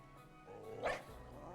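Mabosstiff, a dog-like Pokémon in Pokémon Scarlet and Violet, gives a short gruff bark-like cry that swells briefly near the middle of the moment. The cry sits over a steady game background hum.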